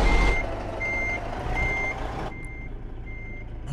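Truck reversing alarm in the American Truck Simulator video game: four or five evenly spaced beeps that repeat steadily over a low, rumbling idling engine, with no talking.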